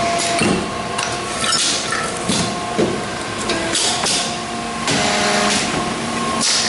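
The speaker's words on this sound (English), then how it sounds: "And then you can press the start. The machine will be auto running." A YFM-V8 plastic open-end zipper injection machine, made in Taiwan, runs in automatic mode with a steady mechanical hum, repeated clanks and hisses, and periodic injection-cycle thumps. No one speaks.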